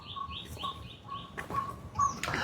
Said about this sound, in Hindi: ऐसे चारों तरफ पंछी भी बोल रहे हैं इसमें, छोटे छोटे।